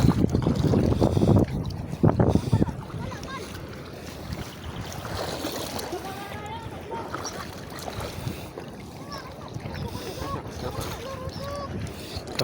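Gusting wind roars and buffets across open water around a small fishing boat, with waves lapping and splashing, steady and loud throughout.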